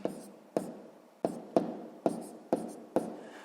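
Pen strokes on paper as a maths answer is written out by hand, seven short scratchy taps at a steady pace, close and quiet with no talk.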